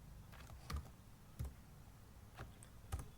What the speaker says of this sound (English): while I was typing